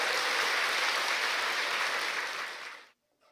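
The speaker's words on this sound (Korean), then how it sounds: "박수 치세요" An indoor audience at a seminar claps in a dense, steady burst of applause that fades out and stops after about three seconds.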